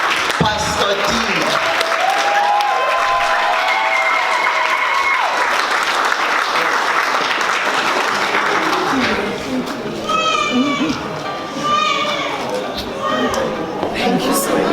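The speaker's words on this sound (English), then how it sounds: "Please, can you join me to applaud the one and only Pastor D." An audience at the Hands Lifting Hearts launch event applauds Pastor D: a dense burst of clapping and cheering that thins toward the end, with voices calling out over it.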